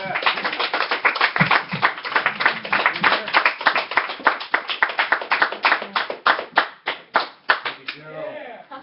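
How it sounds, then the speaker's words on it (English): Audience applause at a comedy open mic night, a dense run of many hands clapping that swells and tapers off with scattered final claps, loud and close. "I heard clapping"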